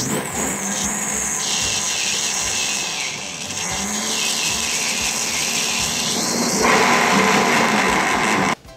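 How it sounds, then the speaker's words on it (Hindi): A grinder machine whirs steadily while blending kadhi ingredients, a loud continuous motor whine with shifting pitch that runs unbroken for about eight seconds before cutting off abruptly. "मैंने ग्राइंडर मशीन की मदद से इन तमाम चीज़ों का एक मिक्सचर बना लेना है। तो मैं अब इसे मिक्स करती हूँ।"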